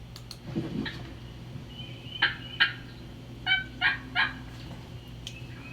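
A wild turkey gobbles several times in windy weather, the rattling calls fairly distant against a low steady background hum.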